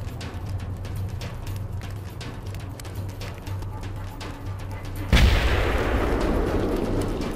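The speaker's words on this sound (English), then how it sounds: "We're under heavy fire!" Heavy gunfire in the 2004 Full Spectrum Warrior game: sharp cracks of shots ring out over a low rumble, then a much louder burst of fire erupts near the end and keeps roaring, with no speech.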